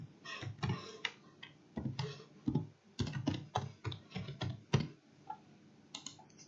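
Someone types a name and details into an online registration form on a computer keyboard, with irregular bursts of close, crisp key clicks and short pauses between words.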